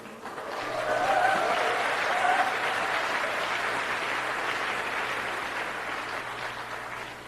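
An audience at a motivational talk applauds in a dense, sustained burst of clapping that swells early and holds steady for several seconds, loud and close, with little speech over it.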